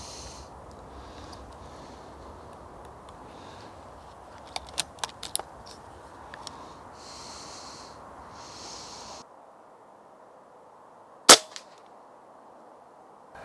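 A single sharp rifle shot at a rabbit during a field shoot cracks out loud and close after a quiet pause. Earlier, softer taps and breathing-like noises sit over faint outdoor background.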